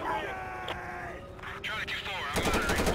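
Rapid automatic gunfire from GTA 5 with a police SWAT mod, a fast burst of shots near the end, following game sounds and someone talking.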